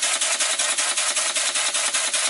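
A model beam engine built from castings runs on compressed air, giving a fast, even chuffing exhaust beat at close range with no talk over it.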